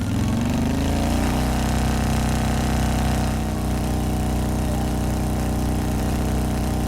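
Motorbike engine in the Trails of Cold Steel video game, running as a loud, steady drone with a rough, idle-like tone that holds throughout and eases slightly in pitch partway through.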